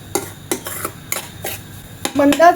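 A spoon scrapes and clinks against a pan while fine semolina is stirred and dry-roasted for rava ladoo, in several separate strokes that end in a brief rattling flurry.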